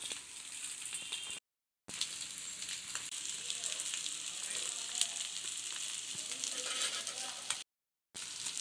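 Semiya jamun balls frying in ghee in a pan, a steady bright sizzle with light crackles and occasional scraping, broken by two short silent gaps.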